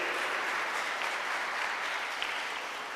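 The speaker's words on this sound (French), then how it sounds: "Ah oui, on peut applaudir." An audience in a church applauds in a steady, even wash of clapping that fills the space for the whole stretch, moderately loud with no voices over it.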